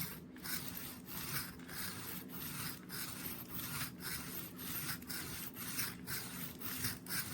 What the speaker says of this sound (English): we take this rough metal here and we sharpen that knife